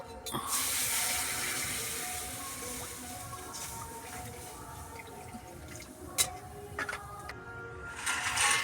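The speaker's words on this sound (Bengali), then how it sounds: "প্রথমে আমি সয়াবিনটা সিদ্ধ করার জন্য জল দিয়ে নেব" Water running from a tap into a pot to boil soybeans, a steady close splashing rush with a few clinks of the vessel, continuous and without talking.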